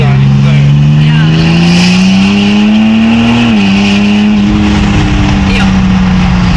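A single-turbo BMW 330d diesel accelerates hard in third gear, its loud close engine drone climbing steadily in pitch and holding strong throughout.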